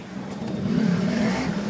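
A motor tricycle's engine revs up close, a steady mid-low drone that swells and holds for a couple of seconds, with no talking over it.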